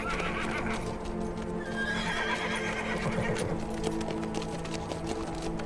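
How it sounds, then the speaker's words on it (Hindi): A horse whinnies loudly while hooves clop along in a rhythmic, steady beat, set against a busy outdoor background in a historical drama scene. "चल चल मेरे घोड़े चल।"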